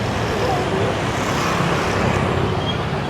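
Steady street traffic with garbage trucks and motorbikes, a dense continuous rumble of engines at close range, with voices faintly mixed into the road noise.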